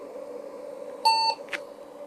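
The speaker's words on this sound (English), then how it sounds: "If this CPU is working, we should get some beeps coming out of the speaker." An IBM PC-XT 5160 gives a single short, clear speaker beep on boot, lasting about a quarter second, over a steady low machine hum, followed by a brief soft click.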